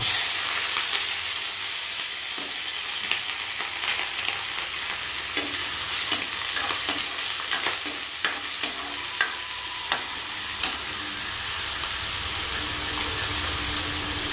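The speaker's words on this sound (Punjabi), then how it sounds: "ਹੁਣ ਇਹਦੇ ਵਿੱਚ ਆਪਾਂ ਆ ਜਿਹੜਾ ਕੱਟਿਆ ਹੋਇਆ ਪਿਆਜ਼ ਛੋਟੇ ਛੋਟੇ ਬਰੀਕ ਬਰੀਕ ਕੇ ਪਾਣਾ" Finely chopped onion hits smoking-hot oil in a pan for aloo do pyaza, giving a loud, continuous sizzle with stirring scrapes and small crackles throughout, no voices.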